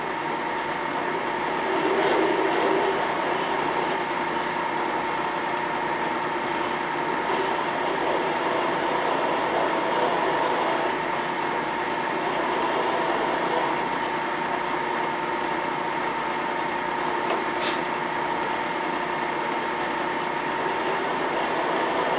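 A machine tool in a workshop runs slowly at 100 RPM during a 1967 Harley-Davidson 74ci Shovelhead motor rebuild, giving a steady, continuous hum and whir with faint clicks throughout.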